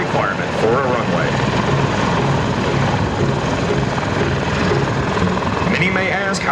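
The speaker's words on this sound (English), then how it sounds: "the aircraft will turn into the wind, executing a backwards hover, and prepare for a vertical takeoff, like a conventional helicopter" A US Marines MV-22B Osprey tiltrotor hovers backwards and lifts off vertically at the Singapore Air Show 2014, a loud, continuous roar and rotor thrum filling the air, with an announcer talking over it.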